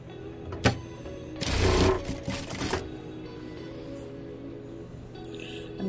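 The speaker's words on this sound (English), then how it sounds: "I'm going to sew both tubes up at the same time" A sewing machine runs a short burst of fast stitching through tubes of plush minky fabric, preceded by a single clack and followed by a quieter hum of the idle machine.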